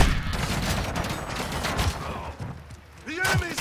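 Gunfire bursts in Call of Duty: Modern Warfare II crackle through a busy combat mix, a steady rattle of shots under shouted voice callouts, with louder hits near the end.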